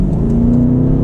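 A 2022 BMW Alpina B8 with turbos accelerating hard, heard from inside the cabin as a loud, steady engine drone that holds for about a second.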